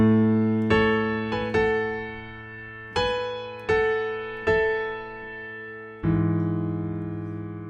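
Solo piano playing the opening section of the worship song Yeshua, slow sustained chords struck one at a time and left to ring, close and clear with no talking.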